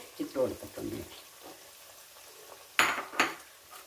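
Prawns going into a cooking pan for prawn theeyal, with a brief murmur of talk at first, then two sharp metallic clatters and a short sizzle as they land near the microphone.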